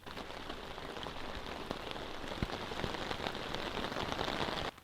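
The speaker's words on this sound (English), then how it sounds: "You can see that even in this heavy rain, the water just runs off this waxed canvas sheet." Heavy rain pattering steadily onto a waxed canvas tarp sheet outdoors in the woods, a dense, continuous hiss of drops with occasional sharper taps, faint and alone with no voices.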